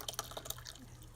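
Homemade ricotta whey pours through cheesecloth and a strainer into a bowl, heard as a soft, faint trickle with a few light drips, close by and quiet, with no talking.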